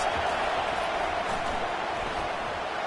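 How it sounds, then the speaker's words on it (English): A packed American football stadium crowd roars to back its defense during a Washington versus Sam Houston game, a loud, steady, unbroken wall of cheering noise that holds throughout. "Listen to this crowd just shaking the girders of this place, trying to help their defense."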